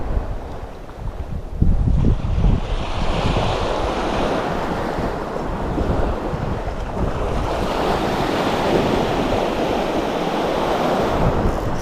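Strong wind buffets the microphone on a beach while surf breaks and washes in continuously, a loud, rushing roar with low rumbling gusts throughout, no voices.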